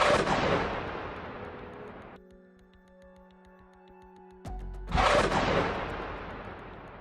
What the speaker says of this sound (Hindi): कैसे एक लड़ाका हरियाली के बीच रॉकेटों को दागने के लिए स्टैंड तैयार करता है और फिर उन रॉकेटों को फायर कर देता है